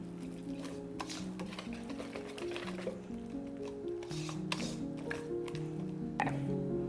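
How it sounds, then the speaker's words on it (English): A whisk beats clumps out of batter in a bowl in a home kitchen, giving a steady wet stirring and squishing texture with light scraping, continuous and fairly quiet, with no talking. "Just gonna get some of the clumps out with a whisk."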